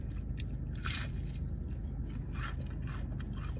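Crunchy fried perch with tartar sauce bitten close to the mic, a few soft crunches and squishy chewing over a steady low background noise, with no talking.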